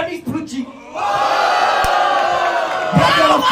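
A crowd at a Brazilian rap battle erupts in loud, sustained cheering and yelling that fills the space, with a brief sharp clap sound in the middle and a fresh swell of shouting near the end.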